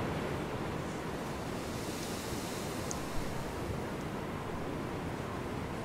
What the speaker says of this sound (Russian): меня ветер этот не заглушает, а то просто он мне орет в уши